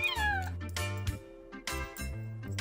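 A cat meowing repeatedly, several close, fairly loud, drawn-out tonal meows with short pauses between them, no talking.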